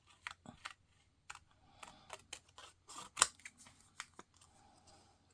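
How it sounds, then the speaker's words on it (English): Small scissors snip around a stamped paper image in a fussy cut, giving a string of close, crisp clicks at an uneven pace in a quiet room. "You can hear it cut, cut,"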